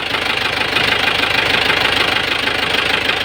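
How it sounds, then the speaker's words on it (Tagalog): A car engine with a strong knocking fault idles up close, sending a rapid, evenly spaced ticking knock over a loud, steady mechanical hum. "Problema, meron siyang knocking. Ang lakas ng knocking niya."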